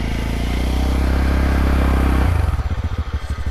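A TVS Ntorq scooter revs hard while off-roading on rough, dangerous ground, its engine droning steadily then stuttering into uneven bursts as it labours, with clattering and scraping up close.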